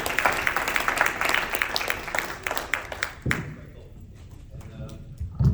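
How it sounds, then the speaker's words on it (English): An audience applauds for a panel moderator at a tech panel discussion, dense clapping for about three seconds before fading into scattered thumps and a voice. "Let's give a warm round of applause to Brian"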